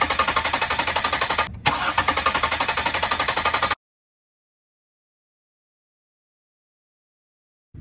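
A car engine cranks rhythmically without catching, a steady loud starter chug lasting under four seconds before cutting off into silence, during a no-start diagnosis with a spark plug tester.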